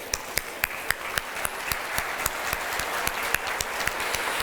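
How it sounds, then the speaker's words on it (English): Applause from an audience at an aerospace event at the Oklahoma state capitol, a brisk crowd of claps with a few louder, sharper hand slaps standing out. "let's give them a round of applause"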